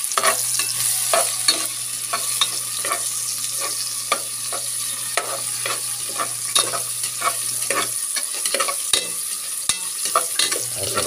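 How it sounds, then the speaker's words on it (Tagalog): Lemongrass is sautéed in a pan at a roadside, a continuous close sizzle broken by frequent sharp scrapes and taps of a spatula against the metal, with a steady hum underneath. "Gigisa ko muna po."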